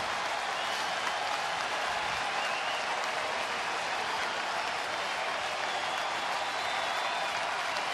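A sold-out baseball stadium crowd of more than 45,000 rising to its feet, a broad, continuous roar of cheering and applause with no breaks, loud and diffuse, filling the whole stretch.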